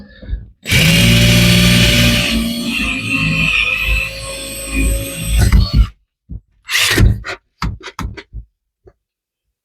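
A power drill bores a pilot hole through a house wall to fit a through-wall exhaust kit for a Champion 3400W inverter generator. It runs loud and steady for about five seconds, then stops, followed by short knocks and handling noises.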